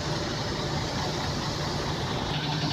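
A Hino RK 49-seater bus engine runs at a steady low rumble, heard at a moderate distance with no talking.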